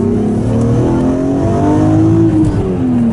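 A loud, close sports car engine revs hard toward 6,000 RPM in a BMW M Coupe versus Mercedes GLA 45 AMG comparison, its pitch climbing steadily under acceleration before easing slightly near the end.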